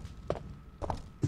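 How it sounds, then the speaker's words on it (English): Footsteps in the Resident Evil 3: Nemesis video game sound as a few soft, dull thuds spaced irregularly over a low ambient rumble. "it's like I can hear footsteps."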